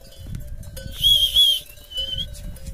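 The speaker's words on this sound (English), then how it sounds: "I have a whistle here." A shrill whistle blown twice in quick succession, loud and close, over quiet outdoor background noise on a mountain trail in the Everest region of Nepal.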